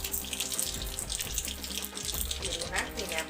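Cumin seeds sizzle in hot oil with mustard seeds already popped, for a Gujarati paneer curry: a dense, continuous frying hiss with scattered crackles, close and fairly loud, with no clear talk.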